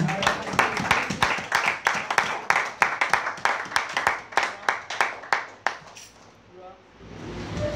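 A church congregation claps hands together in a steady, rhythmic beat, each clap loud and crisp, before the clapping stops abruptly and a quieter murmur follows.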